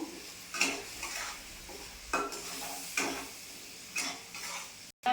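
Onion, garlic, ginger, cumin, coriander, chilli and Kashmiri chilli powder fry in oil for paneer kalia, a soft sizzle broken by repeated spatula scrapes and clinks against the pan at roughly one-second intervals, close and quiet.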